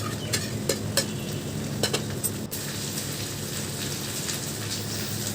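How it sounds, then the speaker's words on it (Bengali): Okra frying in a pan with onions, salt and turmeric for a crispy bhindi fry, giving a steady close sizzle with a few sharp clicks of stirring early on. "এর মধ্যেই আমি কিন্তু ভিন্ডিগুলো দিয়ে ভালো করে নাড়াচাড়া করে ভেজে নেব"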